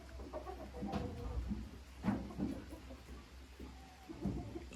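A Marans hen clucks inside a chicken coop, giving a few low, soft clucks at irregular intervals over a quiet background.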